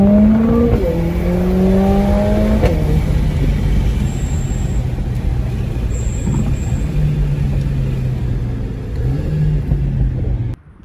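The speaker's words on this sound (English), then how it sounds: "Let's see how fast I can do 0 to 60." A 2020 Mercedes-Benz CLA45 AMG sprints from 0 to 60 in full manual mode, its engine note climbing loudly through several quick gear changes before settling into a steady high-speed drone.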